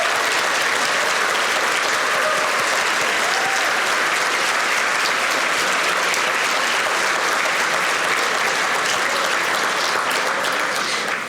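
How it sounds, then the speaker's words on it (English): A large room at an awards dinner breaks into a long, sustained round of applause, dense, even clapping that stays loud throughout and fades only slightly at the end. "a huge round of applause for Amy"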